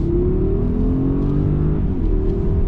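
A 2020 Mercedes GLS 580 with a nine-speed automatic accelerating hard, its engine giving a steady, loud rising drone with gear-change dips, close and continuous with no talking.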